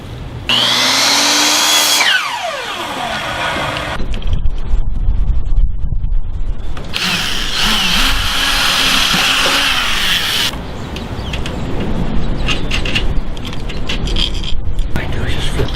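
A power saw cuts through a park bench board in loud bursts, whining up sharply, dropping away, then biting in again, with quiet speech in the gaps.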